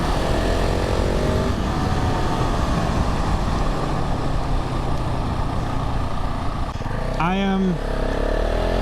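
A 2022 KTM 690 SMC R single-cylinder motorcycle engine drones loudly and steadily while riding, with heavy wind rush throughout and a rider's brief voice near the end.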